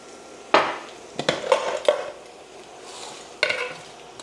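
Peppercorns tipped into keema in a pan, heard as a few sharp rattling clicks and scrapes against the pan, fairly close and moderately loud, with no talk.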